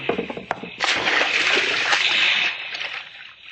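A body is dropped into the sea in a burial at sea from a ship: a loud, close splash, then a long rush of sloshing water that fades away.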